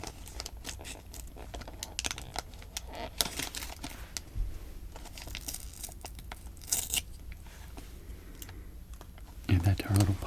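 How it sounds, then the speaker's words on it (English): Close, crisp crinkling and tearing as a MunchPak snack package is cut open along the top, with steady rustling of plastic wrapping and a louder crunchy burst at the end. "Carefully cut right along the top."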